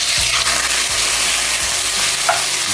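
Pork belly liempo sizzling and frying in a pan for adobo, a steady loud crackling hiss with occasional spatula scrapes and stirs, close up and with no voices.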